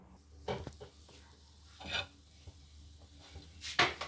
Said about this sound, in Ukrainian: Цю суміш ретельно перемішую і доводжу до кипіння.